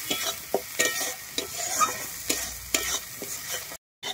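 Poppy seed paste with green chilli is stir-fried for a mustard pabda fish curry, giving a low sizzle broken by regular scraping knocks of a spatula in the pan, then a sudden brief silence near the end.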